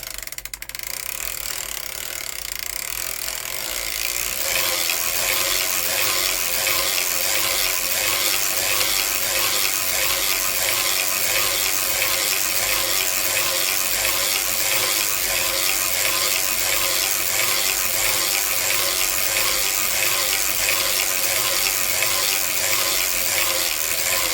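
A circular sock knitting machine is cranked with a steady, rapid mechanical clicking and whirring that carries on evenly for a long stretch, loud and close, with no talking.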